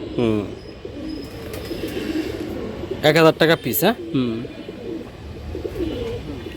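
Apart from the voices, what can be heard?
Giribaz pigeons cooing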